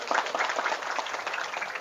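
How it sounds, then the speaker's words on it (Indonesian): Audience applause at a religious gathering and sermon, a brief, moderately quiet patter of many hands clapping evenly without a break. "Tepuk tangan dulu lah."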